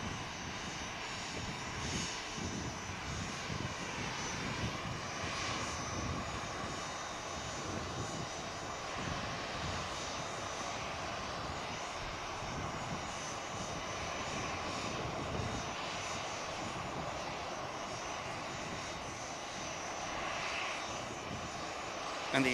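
Loganair ATR turboprop engines running steadily at Manchester Airport, a broad continuous drone with a rough low rumble that holds at an even level throughout, with no voices over it.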